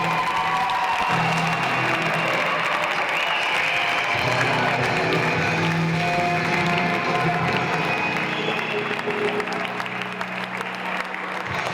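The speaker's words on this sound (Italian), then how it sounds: "Un grande applauso per Massimino Mezzadino." A crowd at a Pallacanestro Sennori basketball club event applauds Massimino Mezzadino, with sustained dense clapping and some cheering and voices throughout.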